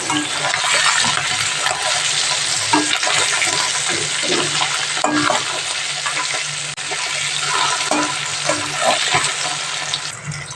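Tengra fish frying in a pan of oil, a dense steady sizzle with crackling spits and small pops running throughout, close and fairly loud with no talking.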